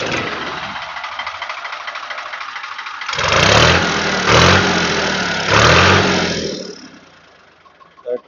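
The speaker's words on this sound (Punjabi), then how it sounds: "ਸਲਫ ਮਾਰ ਟਰੈਕਟਰ ਦੀ ਆਵਾਜ਼ ਸੁਣਾ ਦਈਏ" A New Holland 3630 tractor fitted with its original silencer runs nearby, its engine rumbling steadily and then surging loudly three times in heavy, throbbing revs before settling back down.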